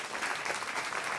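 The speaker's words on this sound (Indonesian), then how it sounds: "Boleh tepuk tangan untuk podcast seminggu." Studio audience applause for a podcast, a short burst of dense, even clapping from a crowd, steady and fairly loud with no speech over it.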